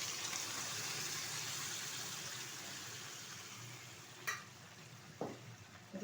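Boiled peas and potatoes drop into spiced mutton fat frying for ghugni, a faint steady sizzle followed by a few soft thumps and clatters near the end.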